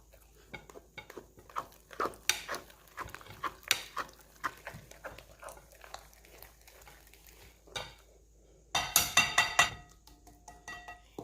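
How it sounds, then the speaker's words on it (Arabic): A whisk clatters against a bowl while mixing flour, salt and baking powder for brioche, giving rapid irregular clinks and scraping taps, with a louder flurry of metallic strokes near the end. "غادي نخلطوه غير بالفوي في الاول"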